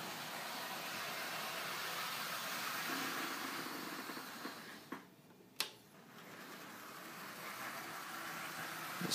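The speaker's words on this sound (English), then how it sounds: "The only noise that's left is the gear tower." Steady whirring hum from the gear tower of a running HO-scale Hobbytown of Boston ALCO PA-1 model locomotive, a quiet continuous mechanical drone with two brief clicks near the end.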